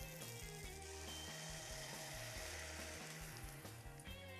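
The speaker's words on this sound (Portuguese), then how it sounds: "Vou acrescentar o caldo." Broth is poured over risotto rice in a pan, setting off a steady, busy sizzle and bubbling frying hiss that runs unbroken and close, with no talking.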